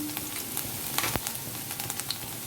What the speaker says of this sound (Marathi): तेल तापलेलं आहे। आपण ही रेसिपी गॅस मोठा ठेवून करणार आहोत। इथे सुरुवातीला आपण आलं लसूण घालून घेणार आहोत।